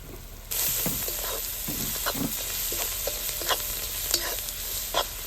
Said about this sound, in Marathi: कांदा टोमॅटो चांगलं परतून झालेले आहे